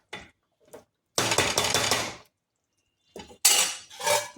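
A metal pot lid is lifted off a simmering chicken korma, giving a few close clattering, scraping clanks of metal cookware in separated bursts with short quiet gaps between them.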